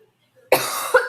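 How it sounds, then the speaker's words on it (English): A person clears their throat once sharply, followed by a shorter second rasp, close and fairly loud after a moment of near silence. "I kind of had to clear my throat."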